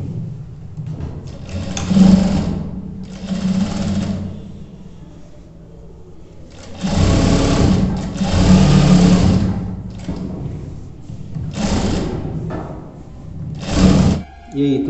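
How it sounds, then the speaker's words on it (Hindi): A sewing machine stitches the fly of a pair of trousers in several separate runs, its motor whirring in bursts of one to three seconds with short pauses between them, close by and steady. "ये देखिए इसको ऐसे फोल्ड करेंगे, ये लग के सिलाई चलेगी।"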